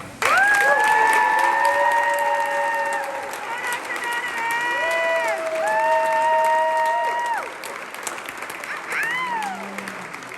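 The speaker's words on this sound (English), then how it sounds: "so let's have a big, nice cheer for Dr. Donovan." Steady applause and cheering from a crowd at a Bellarmine ASUN championship celebration in Louisville fill the space, with sustained, held tones playing over the clapping before it thins out near the end.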